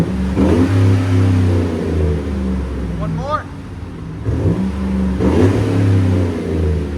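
A deep, rumbling 5.3L V8 in a 2008 Chevy Silverado LT with a Flowmaster Flow FX exhaust revs up loudly twice, close by, with a throaty exhaust note; a voice briefly speaks between the revs.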